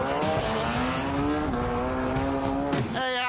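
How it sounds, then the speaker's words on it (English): A dune buggy driven around a Texas neighborhood, its engine droning loud and steady close by, with the pitch shifting as it revs up and drops back near the end. "This couple takes a dune buggy for a spin around the neighborhood"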